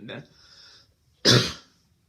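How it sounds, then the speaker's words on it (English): Two short coughs, one brief and softer, then a louder throaty one about a second later, close up with no talking. "got a little cough here for a second"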